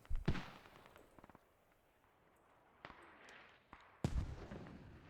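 Mortar fire in a military video game, with distant thumping booms and a sharp louder blast near the end over low background ambience.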